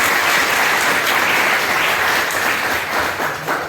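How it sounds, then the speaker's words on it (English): Seminar audience in an anatomy department applauding, a dense, steady round of clapping that holds at an even loudness for the whole stretch with no voices over it. "give a big round of applause for it"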